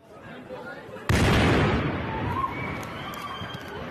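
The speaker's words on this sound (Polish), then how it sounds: "Spokój przerywa wybuch bomby." A bomb goes off on a busy pedestrian street in central Istanbul: one sudden, loud, broad blast erupts, then a rumbling, crackling aftermath fades over the next few seconds.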